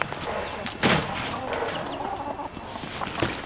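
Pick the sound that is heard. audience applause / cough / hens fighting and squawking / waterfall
hens fighting and squawking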